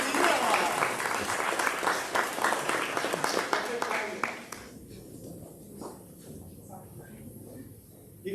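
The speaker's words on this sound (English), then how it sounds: "let's just greet her with a big round of applause" Audience at a ribbon-cutting ceremony for an urgent care clinic applauds loudly for about four seconds, then the clapping thins to a few scattered claps and quiet room noise.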